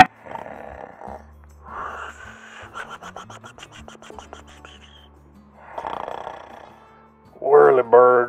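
Slow, rasping snores repeat a few times, close and fairly quiet, followed by a brief louder burst of a voice at the end.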